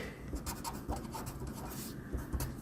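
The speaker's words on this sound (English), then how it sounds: "let me write the question" A pen scratches across paper while a math problem is copied out, a continuous soft scratching with small strokes and pauses, close and quiet.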